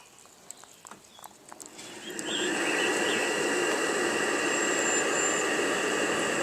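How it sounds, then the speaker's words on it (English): A charcoal forge's blower kicks on about two seconds in, with a few faint taps before it. It then settles into a loud, steady rushing roar with a thin whine riding on top. "I'll turn the blower on now."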